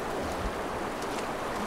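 Steady rushing waterfall in the video game Far Cry Primal, a dense continuous wash of water noise filling the whole moment, close and even with no talk over it.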